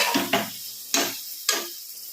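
Biryani ingredients and masala are stirred in a pan, with four distinct scraping, clinking strokes of a spoon against metal at an uneven rhythm over a faint sizzle.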